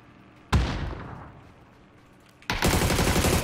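Gunfire in the video game PUBG on the Miramar map: one sharp shot at first that fades out, then a dense, loud burst of rapid automatic fire near the end.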